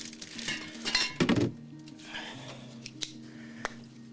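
Pots and utensils clatter and bang in a home kitchen during cooking, with a loud metallic burst of clanks followed by lighter clinks and scraping from stirring, and a few sharp taps at the end.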